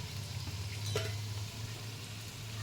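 Fish roe pakoras fry in hot oil with a steady, close sizzle and bubbling that holds evenly throughout, with no voices over it.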